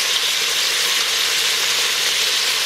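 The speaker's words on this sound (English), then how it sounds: "I'm also going to add my pieces of garlic while we're searing" Pork and garlic sear in an Instant Pot for Mexican carnitas, giving a loud, steady, close sizzle that runs unbroken from start to finish with no talking.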